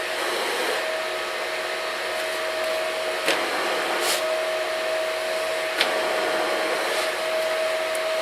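The cooling fan of a Longevity Forcecut 42i plasma cutter runs in a steady, moderately loud rushing whoosh with a constant tonal hum, broken by a few faint clicks and taps.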